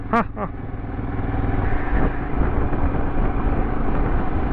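Royal Enfield Himalayan motorcycle riding along a mountain road, engine droning steadily and loudly with wind rush, after a brief rising horn-like tone at the start.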